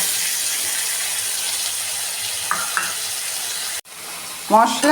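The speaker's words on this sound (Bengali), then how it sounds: "আলু ভাজা হচ্ছে।" Potatoes fry in a pan with onion, ginger-garlic paste and ground spices, producing a steady hiss and sizzle, then a brief break and a burst of louder spattering near the end, with a faint voice.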